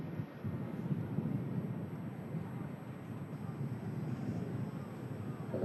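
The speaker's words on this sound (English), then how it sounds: "Ryanair just touching down at the top of the hump there on 23 right." A Ryanair airliner touching down on runway 23 right, a steady low rumble with wind-blown roar heard from a distance, continuous and without distinct peaks.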